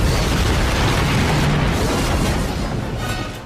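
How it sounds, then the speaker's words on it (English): A loud, sustained roar of explosions with deep rumbling booms and bursts that fade slightly toward the end. "and lots of explosions"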